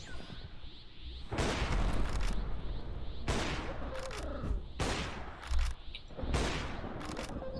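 Bursts of gunfire from a gun in the video game Minecraft, four loud broadband volleys spaced about two seconds apart, each trailing off into a noisy tail.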